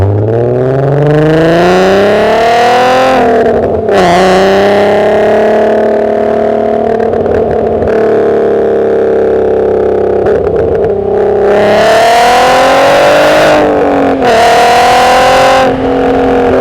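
A VW R32 engine revs hard and accelerates through the gears in a loud, close run, its pitch climbing repeatedly and dropping at each shift, with a rising engine note between brief breaks.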